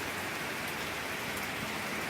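Heavy rain pouring steadily during Tropical Storm Irma, a dense, continuous hiss of rainfall with gusty wind and no breaks or voices.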